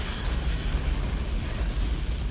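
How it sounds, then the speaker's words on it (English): An explosion in the anime Gurren Lagann gives a sustained, heavy, low rumbling roar that rolls on at an even loudness throughout, with no talking over it. "That's a beautiful looking explosion."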